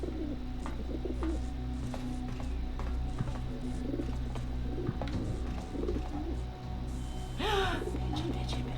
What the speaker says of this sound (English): I hear pigeons.